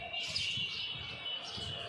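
Small birds chirp faintly outdoors against steady wind and broadband background noise, thin high tweets scattered through the moment with no one speaking.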